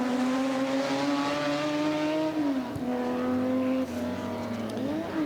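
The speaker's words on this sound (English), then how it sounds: "Peter Mullen's BMW CSL on the course" BMW CSL race car in Jägermeister orange livery accelerating on a hill-climb course, its engine note loud and close, climbing steadily through the gears with brief dips at each shift.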